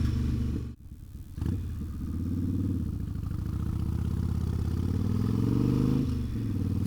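Harley Sportster motorcycle engine cruising at about 30 mph, a steady low rumbling drone with a brief dip and clatter near the start, sustained and fairly loud throughout without talk.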